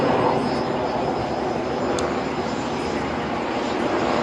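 Steady, loud engine roar of a Flying Bulls aerobatic aircraft performing at the ILA Berlin 2018 airshow, a continuous broad rumble filling the air with no talk over it.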